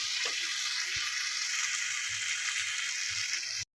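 A spice paste with bhetki fish bones sautéed in a pan, a steady moderate sizzle with faint stirring scrapes that cuts off abruptly at the end, no talking.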